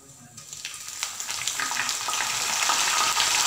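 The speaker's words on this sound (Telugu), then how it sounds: "నూనె వేడెక్కాక జీలకర్ర వేసుకోవాలండి. జీలకర్ర వేసాక కొంచెం కరివేపాకు," Cumin seeds and curry leaves hitting hot oil, a bright crackling sizzle that swells and grows denser over a few seconds, close and loud with no talking.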